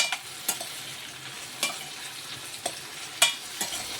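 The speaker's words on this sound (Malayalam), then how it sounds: "എല്ലാം കൂടി നല്ലോണം ഒന്ന് ഇളക്കി കൊടുക്കാം." Chopped ripe tomatoes are stirred into a brinjal and egg mixture in a pan, giving a soft frying sizzle broken by sharp scraping stirs that come roughly once a second, close and fairly quiet.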